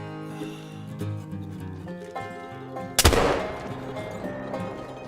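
A rifle shot at a deer in theHunter Call of the Wild: one sharp, loud crack over a quiet ambient game backdrop, with a long rumbling echo trailing away afterward.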